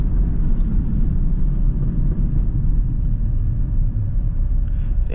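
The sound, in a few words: Acura RSX Type S accelerating hard on motor alone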